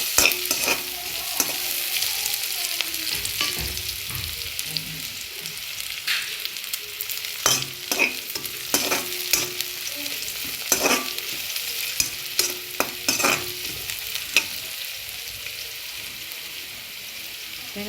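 Kottu made from a packet fries in a pan with a steady sizzle, while a utensil scrapes and clatters against the metal in repeated sharp bursts, close and fairly loud.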